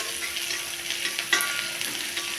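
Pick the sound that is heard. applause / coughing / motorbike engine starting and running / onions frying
onions frying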